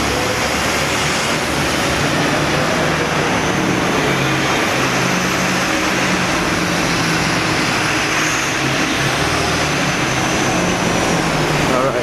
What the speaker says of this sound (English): that's the buses exiting